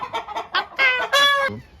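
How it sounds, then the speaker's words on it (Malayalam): A chicken on a chicken farm clucks several times in quick succession, building into louder drawn-out squawks, close by and without any talking. "കോഴി ഫാമിൽ"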